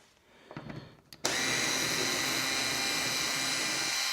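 Power tool removing the rear bolt from an Old Town kayak accessory: some faint handling clatter, then a sudden steady loud whir that runs close and unbroken to the end.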